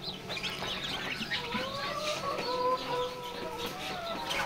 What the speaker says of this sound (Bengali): এখানে দেখতে পাচ্ছেন লেয়ার মুরগি রয়েছে।